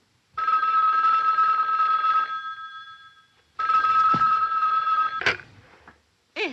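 A hotel room telephone bell rings loudly and close in two long bursts separated by a pause, followed by a clunk as the handset is picked up.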